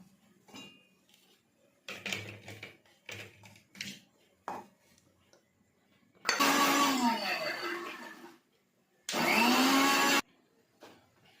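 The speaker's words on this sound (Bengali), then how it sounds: "এবার আদা রসুন আর একটু কাঁচা লঙ্কাটা বেটে নেব" A kitchen blender grinds ginger, garlic and green chilli into paste in two loud bursts of whirring, a longer one and then a shorter one, after a few quieter clinks and knocks of utensils.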